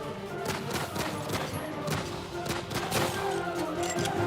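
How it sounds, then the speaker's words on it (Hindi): A rapid, sustained burst of gunfire, depicting a pistol fired indiscriminately during a gang shootout, with dense, overlapping loud shots and thumps filling the whole stretch without a break. "दौड़ते हुए ही वो अपनी पिस्टल कॉक करता है और अंधाधुंध फायरिंग करने लगता है।"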